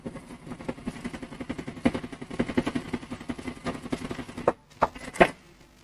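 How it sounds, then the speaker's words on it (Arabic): A computerized A4F sewing machine stitches decorative patterns with a steady, rapid mechanical pulsing at close range. It then slows into a few separate clacks before stopping. "خياطة الأشكال المتعددة"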